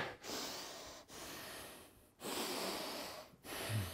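Heavy breathing after a full-body dumbbell workout: four long, loud, close breaths, each separated by a short pause.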